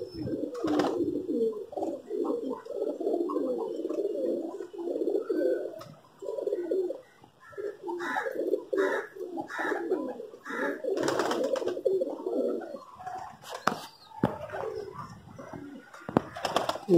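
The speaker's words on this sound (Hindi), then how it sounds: "ये देख कितना सयाना कबूतर है, बार बार ऊपर देख रहा है।" A pigeon in a cage coos in repeated soft throaty phrases, close and clear, with brief pauses and a few sharp clatters of movement in between; no speech.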